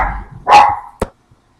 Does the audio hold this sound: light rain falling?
no